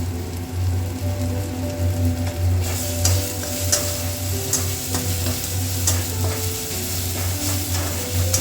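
Spice paste with a little turmeric fries steadily in a pan for making mustard achari fish, giving a continuous close sizzle with scraping stirring strokes and small crackles throughout, no talking.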